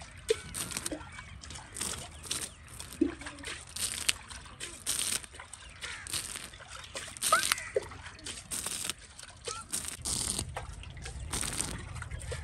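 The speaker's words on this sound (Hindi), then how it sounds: "आज मैंने सोचा इधर ना पानी का छिड़काव लगा देती हूँ, कुछ गुजारा हो जाता, रेत जम जाती है नीचे" Water is sprinkled by hand over sandy ground in a village cooking area, giving faint, irregular splashes and patters spread through the clip, quiet and close, without talk.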